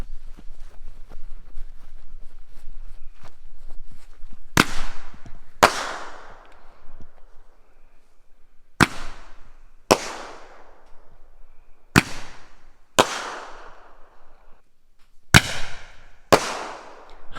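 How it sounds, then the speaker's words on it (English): A Big Fireworks Thunderstick 5-ball firework going off outdoors: after a quiet fizz, eight loud sharp bangs fire in irregular pairs and singles, each with a short ringing decay. "This is the Thunderstick by Big Fireworks, and it is a 5-ball one."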